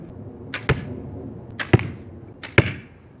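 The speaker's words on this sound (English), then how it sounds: "I'm gonna shoot all 3 at the target just so I can show you guys the difference in how they impact." Three arrows tipped with forged fork-tine arrowheads are shot into a target from 25 yards, each a sharp close thwack of impact in an evenly spaced sequence, quiet between hits.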